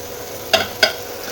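Mutton tipped into fried spice masala in a pan, with two short, separate stirring scrapes and a faint sizzle over a quiet kitchen background.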